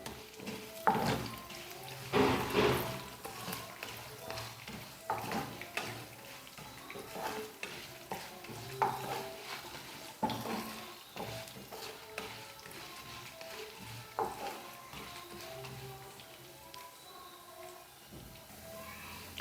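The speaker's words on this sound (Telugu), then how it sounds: "వీటిని మనం ఆయిల్లో ఫ్రై చేసుకుందాం." Curry leaves fry in hot oil with fenugreek seeds, a low crackling sizzle punctuated by clinks and scrapes of a spoon stirring the pan, close and fairly quiet throughout.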